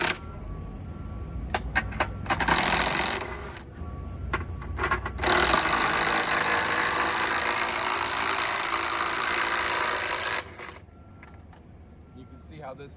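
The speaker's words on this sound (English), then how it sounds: "Now we're going to remove these hover bolts." Air tool or power wrench removing hover bolts from a plate, a long steady loud whirring with shorter bursts before it, close by.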